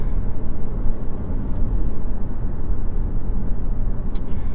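Interior drone of a 2023 Toyota Prius Prime under full-throttle acceleration, a steady, loud low-frequency hum and road roar that holds without pause.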